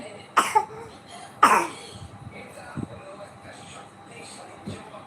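A sick girl coughs two sharp, loud bursts close by, followed by fainter coughs, in a quiet indoor room.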